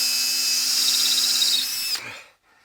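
A loud power drill with a dulling bit grinds steadily into a hard rock slab, then winds down and cuts off near the end.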